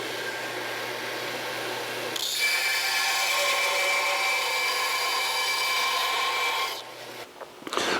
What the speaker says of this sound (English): We'll put a bevel on the end of each U-bolt so that the nut goes on easy.